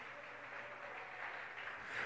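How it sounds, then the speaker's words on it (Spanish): A church congregation at a Spanish-language worship service claps together in loud, sustained applause, a dense, even wash of hands that holds steady and swells slightly toward the end, with no voices standing out. "Póngase en pie en el nombre de Jesús y tribútele aplausos sonoros a Él"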